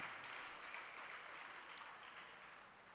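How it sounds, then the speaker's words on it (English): Steady applause from an audience at a mental health seminar, a dense wash of clapping that holds evenly and fades slightly toward the end. "Let's give a big round of applause to Father Shindo and the whole TREDA team."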